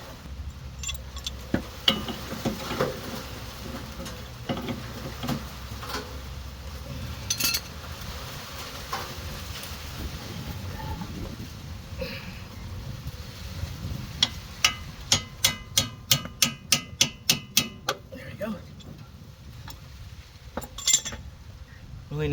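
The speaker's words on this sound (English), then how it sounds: "I just use pipe wrench on this." A pipe wrench works on car suspension parts during a lower control arm, stabilizer link and outer tie rod end replacement outdoors, with scattered metallic clinks, then a quick run of rhythmic ratcheting clicks and a few more knocks, close and fairly quiet.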